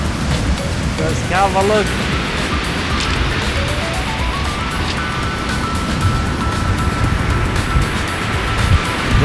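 Roaring sea waves crashing on the coast in strong wind, a continuous loud wash of surf and gusting noise with someone speaking briefly over it.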